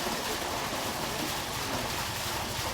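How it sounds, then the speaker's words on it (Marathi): Water pours continuously at the historic Panchakki water mill, a dense, loud, steady roar of falling water filling the space without a break. "किती छान असा धबधबा आहे सारखं पाणी आहे"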